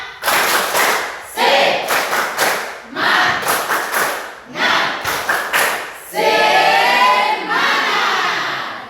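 Group of children performing the tepuk semangat, loud, sharp rhythmic clap patterns in quick bursts separated by short pauses, ending with a sustained collective shout.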